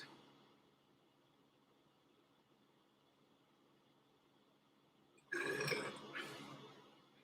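A man lets out one loud, close burp after eating Taco Bell, rising abruptly out of a quiet room with a short second gust trailing it.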